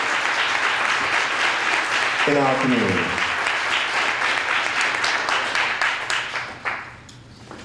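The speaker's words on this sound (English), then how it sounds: "give him years worth of applause for the work that he's done" Audience applause fills a hip hop awards ceremony at a music festival, steady and dense broadband clapping throughout, with a voice speaking briefly over it before the clapping thins out near the end.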